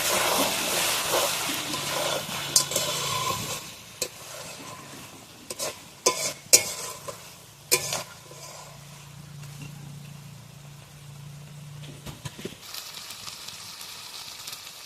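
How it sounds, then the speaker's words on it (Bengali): Bhetki fish-bone chorchori curry being stirred in a pan after garam masala is added, with a low sizzle and scattered sharp scrapes and clatters of the spoon against the pan, close and fairly quiet, no talking. "দিয়ে আমি ভালোভাবে একবার নাড়িয়ে নেবো"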